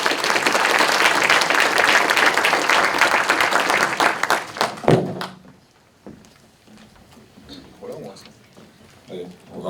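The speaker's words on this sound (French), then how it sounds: "Merci de les applaudir." Audience applause at a French conference on disinformation as speakers take the stage: dense, loud clapping for about five seconds, then a sudden drop into quieter room noise with scattered thumps and murmuring voices.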